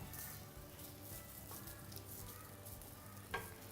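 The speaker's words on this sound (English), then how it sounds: "we've got our fry pan that's been heated up, and we've got some bacon going" Bacon frying in a preheated fry pan gives a steady close sizzle with a fine crackle and faint stirring, and one brief sharper pop near the end.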